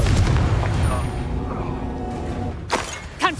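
A Confringo blasting spell goes off in Hogwarts Legacy on Xbox Series X: a loud, deep rumbling boom that slowly fades, followed near the end by a short sharp crack and a brief vocal sound.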